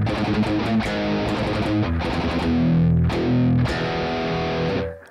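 An electric guitar plays through a RAT overdrive pedal, loud, thick distorted chords ringing in a short riff that cuts off abruptly at the end.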